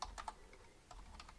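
Quiet keystrokes on a computer keyboard as a terminal command is typed for a Raspberry Pi bootloader update, a few short bursts of clicks with brief pauses between them.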